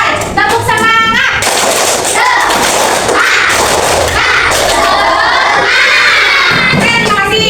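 Elementary schoolchildren in a classroom perform a rhythmic clapping chant, loud group claps and shouted voices filling the room continuously from start to finish.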